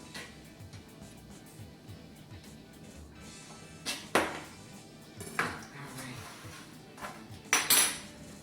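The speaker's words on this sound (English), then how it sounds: "I've got some pepperoni here, so let's go ahead and cut up a few pieces of this" Knife cutting pepperoni slices on a cutting board: several sharp taps and clinks spaced irregularly over a quiet kitchen background, growing more frequent toward the end, with no talking.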